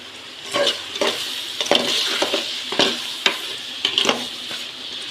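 Biryani powder and turmeric fry in oil for Chettinad-style kuska, a close steady sizzle broken by about a dozen rhythmic scraping strokes of a spoon against the pan.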